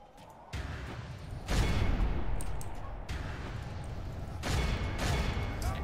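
Mortar bombardment in the battle game Total War: Warhammer, heavy booming impacts and rumbling explosions that arrive in several loud waves and overlap into a continuous roar of battlefield noise.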